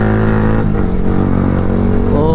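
A Yamaha R15 V3 motorcycle engine rumbles loudly up close, its throaty revs rising and falling with strong harmonic growl throughout.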